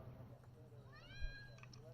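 A cat meows from inside a car during a NASCAR race broadcast at Talladega, a rising harmonic cry heard faintly under a steady engine-like drone and some talk.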